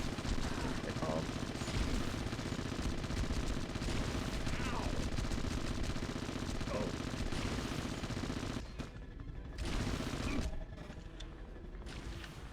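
Rapid gunfire from nano pistols in the PS2 game Red Faction rattles steadily in quick bursts through a multiplayer-style firefight, with brief pauses and a commentator talking over the shooting.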